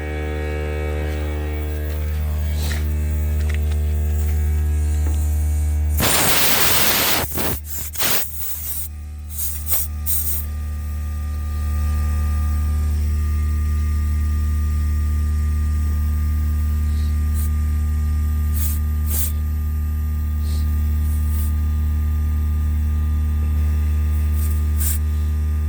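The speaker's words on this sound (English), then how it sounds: "I'm going to pump up the tire to probably 36 or 38" An air compressor fills a tire on a 1990 Chevy 1500 5.7-liter V8 2WD pickup: a loud, constant electric droning hum with a brief burst of hissing air partway through, no talk.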